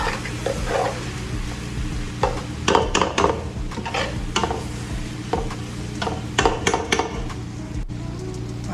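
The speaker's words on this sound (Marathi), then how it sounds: "त्यानंतर हे सर्व मिक्स करून घ्यायचं बरोबर." Chili, coriander and cumin powder being stirred into sizzling masala for butter chicken, with a steady fry hiss under repeated close spoon scrapes and clanks against the pan.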